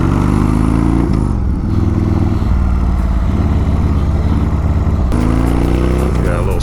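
Harley motorcycle engine idling roughly and sputtering at quarter throttle, a loud, close, uneven chugging with abrupt pitch shifts and a sharp blip near the end.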